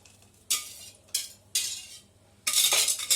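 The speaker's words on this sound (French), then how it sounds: "Je remue légèrement." Hot lemon mixture being stirred into eggs in a bowl, a few brisk scraping and clinking strokes of a utensil in quick separate bursts, close and fairly quiet.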